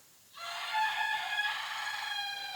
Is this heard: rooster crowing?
yes